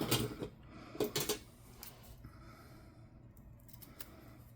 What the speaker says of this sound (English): I'm gonna peel this off and snip off a little bit more